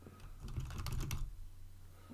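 Rapid clicking of computer keyboard keys, a short cluster of quick taps rising in the middle and fading out, close and fairly quiet over a low steady hum.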